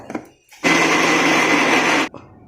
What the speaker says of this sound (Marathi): मिक्सर मिक्सरला लाव